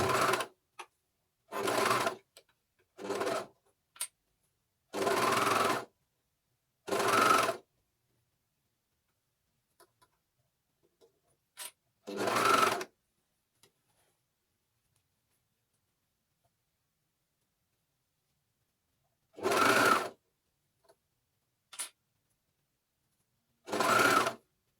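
A coverstitch machine stitches a sleeve hem on a knit top in a series of loud, buzzing stitching runs, about nine of them with quiet gaps in between, close up and with no talk.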